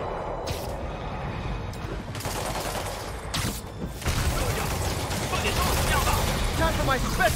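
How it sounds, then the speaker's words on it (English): Heavy gunfire in the Spider-Man PS5 video game, dense sustained bursts of shots and impacts filling the whole stretch, loud and continuous, with a voice talking over the battle. "Taking heavy fire from demons at Checkpoint Delta."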